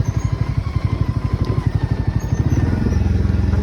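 A small motor vehicle engine runs close by in a village, with a loud, rapid, even putter that quickens slightly toward the end.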